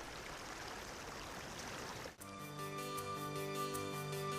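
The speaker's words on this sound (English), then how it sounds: "The water flows from the high fields to the low" Water flows through irrigation channels between flooded rice fields, a faint, even rushing that gives way halfway through to sustained tonal music.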